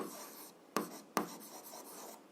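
A pen scratches softly across paper while algebra is worked out by hand, with two sharper taps as strokes begin, all quiet and close with no talking.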